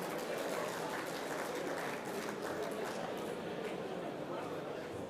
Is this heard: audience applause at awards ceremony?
yes